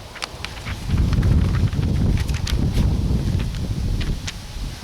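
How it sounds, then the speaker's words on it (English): Outdoor wind buffets the microphone in low, rumbling gusts that swell and fade, with scattered ticks and rustles on top and no speech. "I had some wind coming up here."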